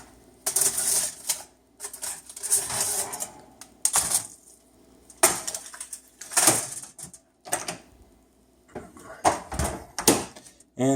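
An oven door with a child lock opens amid a series of sharp mechanical clicks and clunks, the latch snapping and the door shifting in separate bursts, close and fairly loud, with no talking.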